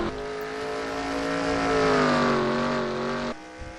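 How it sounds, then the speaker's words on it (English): A race car engine in the NASCAR Racing 2003 video game screams near the rev limiter, a steady high whine with bouncing harmonics, then cuts off sharply as the throttle lifts for a turn. "You heard it there. Off the rev limiter into turn 3."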